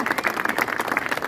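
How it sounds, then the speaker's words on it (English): Audience applause at a mayoral campaign kickoff event, a brief burst of crowd clapping with some voices mixed in, fairly close and moderately loud. "give her a big round of applause."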